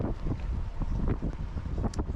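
Gusty wind buffets the microphone aboard a sailboat under sail near a bridge on the Guadiana river by Ayamonte, a steady low rumble with irregular surges throughout.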